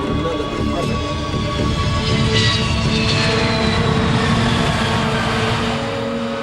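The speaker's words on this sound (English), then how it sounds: "Touchdown." Airliner touching down on the runway, a loud sustained engine roar with whining tonal layers and a brief rise in rushing noise partway through, with faint radio-style talk underneath.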